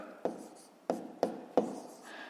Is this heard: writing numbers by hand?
yes